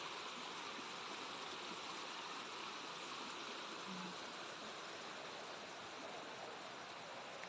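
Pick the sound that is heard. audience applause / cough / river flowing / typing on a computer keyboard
river flowing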